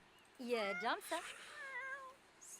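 A cat in The Sims 4 gives a rising and falling meow, then a shorter second meow and a softer, wavering third call, clear and close over quiet game ambience.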